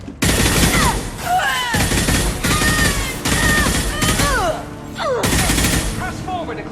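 Rapid, dense automatic gunfire rattles in loud sustained bursts in the video game Mass Effect 2, broken by brief gaps and laced with whistling, sweeping sci-fi weapon tones.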